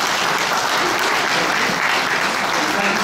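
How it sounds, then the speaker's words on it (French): A live quiz-show audience in Haiti applauding, dense and continuous clapping that fills the room at steady volume. "Applaudissez s'il vous plaît."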